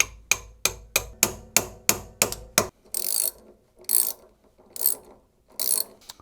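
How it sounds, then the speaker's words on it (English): Hammer knocking a socket-set piece against a bolt while fitting a washer dryer heating element: eight sharp metallic taps in a steady rhythm, followed by four duller, hissy scraping strikes. "use a hammer and a piece of the socket set just to knock in the bolt a little bit"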